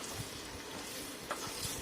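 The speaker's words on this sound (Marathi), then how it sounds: "आपण चॉप केलेला लसूण लाल मिरची याचे थोडेसे तुकडे करून फोडणीमध्ये घातले हे छान फ्राय करून घ्यायचे" Chopped garlic and red chili fry in hot tempering oil with a soft, steady sizzle and faint crackle, close and even, with a couple of light stirring clinks.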